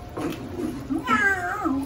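A cat meows twice, close and clear, the second meow longer and rising.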